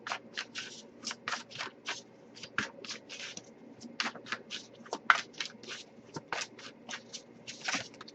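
Tarot cards are shuffled by hand, a long run of quick, crisp riffling bursts in an irregular rhythm, close and fairly quiet, with no talking.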